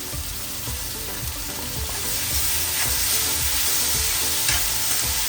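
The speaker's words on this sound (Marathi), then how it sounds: "आता छान किती झाला स्टर करता करता आपण कांदा थोडासा ब्राऊन झाला" Finely chopped large onions sizzle and fry in a pan while being stirred and turning brown, a steady close hiss with soft scraping stirs throughout, growing slightly louder partway.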